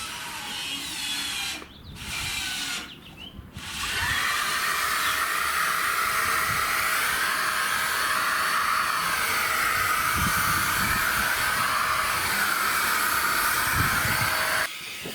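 A cheap $50 cordless paint sprayer spraying paint outdoors over grass: two short bursts of airy motor hiss, then a long, steady, loud whirring spray with a faint tonal whine that stops abruptly near the end.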